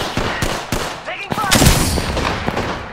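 Loud, rapid gunfire in the Apex Legends video game, with repeated sharp shots and bursts close by and a heavier volley in the middle that rings out over a busy mix of game sounds.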